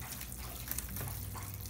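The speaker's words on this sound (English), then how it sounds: "So we're just gonna pour in 10 cups of water." Warm water pouring steadily onto Jiffy seed starting pellets in a tray, a continuous close gushing splash lasting under two seconds without talk.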